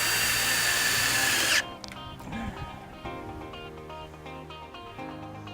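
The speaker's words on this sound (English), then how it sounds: "you're going to go ahead and put 1 self-tapping screw in it on the outside hole" A power drill driving a self-tapping screw while installing an AC Weather Guard Hover Guard: a loud, steady high whir for about a second and a half that cuts off abruptly, followed by faint clicks and low rumble.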